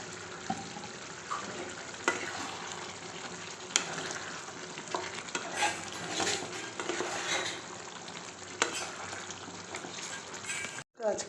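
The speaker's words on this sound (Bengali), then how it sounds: "এবার এর মধ্যে একটু ঘি দিয়ে দেবো আজকে" Mixed vegetables frying in a pan with ghee added, giving a continuous close sizzle broken by repeated scraping stir strokes and clinks of the spoon against the pan.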